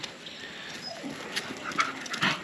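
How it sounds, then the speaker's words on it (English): Dog outdoors near a cow, with faint whimpers and yips against steady ambient noise, brief and not very loud. "who's barking at the cow?"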